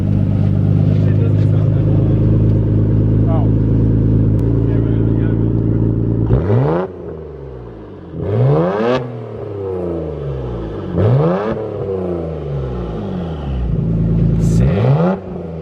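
A Nissan R32 GTR fitted with a Tomei exhaust idling loudly up close, then hit with several sharp revs that rise quickly and fall back, each leaving a crackling decay, with people talking over it.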